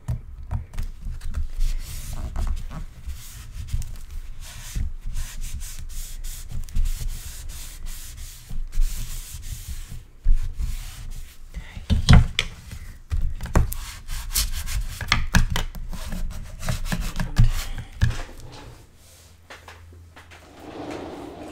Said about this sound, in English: Flexible ruler that I like to burnish my mats that are inside pockets with.